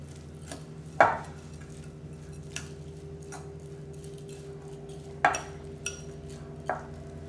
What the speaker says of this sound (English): Just want to make sure this is mixed all the way through.